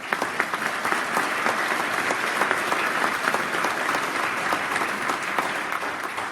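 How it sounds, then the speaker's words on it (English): Steady applause from a crowd at an expo dinner, sustained and even throughout without a break. "Round of applause for our corporate sponsors."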